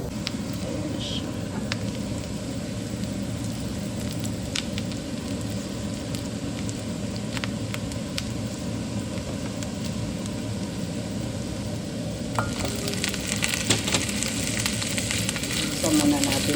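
Onion and garlic sizzle steadily in a hot pan for Filipino munggo, a constant close frying hiss throughout with occasional clicks and a brief stir near the end.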